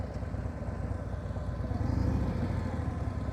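A motorcycle engine revs high and holds a rough, throbbing drone during slow speed riding practice, steady and fairly close with a slight swell midway, no voices over it.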